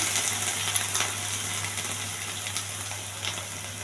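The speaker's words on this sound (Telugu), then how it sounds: "కొన్ని ఉల్లిపాయలు, కొన్ని పచ్చిమిర్చి. ఇవి కొంచెం దోరగా వేయించాలి." Onions and green chillies frying in a pan, a steady bright sizzle with faint crackles and a constant low hum underneath, close and continuous.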